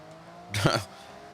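A race car in the video game Forza Horizon 6 gives a single loud burst of tire squeal and engine noise, swelling and fading in under a second, with faint background hum before and after.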